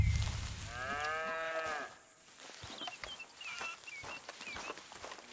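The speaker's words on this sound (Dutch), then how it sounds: "A cow can be milked." A cow in the Red Dead Redemption 2 video game lets out one long, loud moo near the start, followed by faint bird chirps and ambient game sounds.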